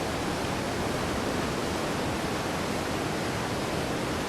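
Roaring waterfall in the survival video game Ark: Survival Ascended, a dense, unbroken rush of falling water that stays loud and even throughout.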